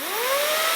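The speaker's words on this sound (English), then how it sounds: "So even though it's a lighter hairdryer, it exerts more force." CNMSGM hair dryer running at speed, a brief, loud, steady airy whoosh with a faint rising motor whine, close up and alone.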